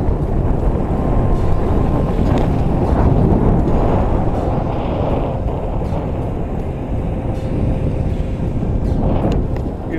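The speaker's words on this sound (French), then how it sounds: "c'est une étape super dure à cause du vent" Strong wind on a cycling stage from Montrose to Sapinero roars and buffets the microphone continuously, a heavy low rumble of gusts with no letup.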